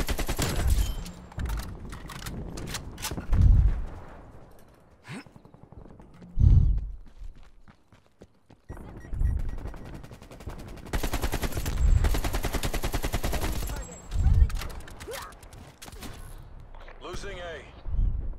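Rapid gunfire from an AK47 in Call of Duty: Black Ops Cold War, loud bursts of shots with grenade-like thumps, interleaved with quieter gaps and other game sounds.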